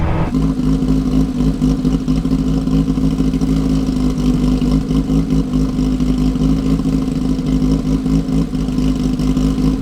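A Porsche race car with a 3.4-litre engine runs with a steady, loud, uneven offbeat engine note that holds without breaks for the whole stretch and has no voices.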